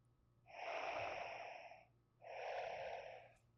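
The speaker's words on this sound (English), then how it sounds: "that's the best Darth Vader sound effect" A LEGO smart brick plays a Darth Vader breathing effect when brought near the minifigure: two long, loud mechanical breaths, an inhale and an exhale, each about 1.5 seconds, separated by a brief pause, with no talking.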